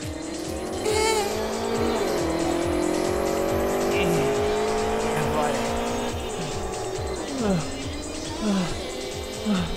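Car engine revving hard with tires squealing as the driver downshifts, a continuous loud drone of rising and falling revs with repeated screeching skids.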